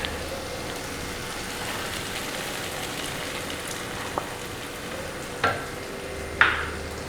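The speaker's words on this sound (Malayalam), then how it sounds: "അപ്പോൾ ഞാൻ ഇതിനകത്തോട്ട് മുട്ട ചേർത്ത് കൊടുക്കുകയാണ്." Egg poured into a pan of tomato-onion masala sizzles with a steady, soft frying hiss, punctuated by a few sharp clinks of a utensil toward the end.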